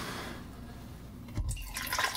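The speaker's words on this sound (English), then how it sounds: "Pour the stop bath in." Stop bath liquid pours briefly into a film developing tank for black and white film, a short splashing gush near the end after a quiet stretch.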